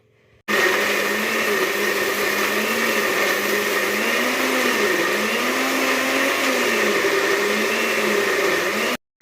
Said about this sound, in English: tomato has cooled down, so it's time to blend.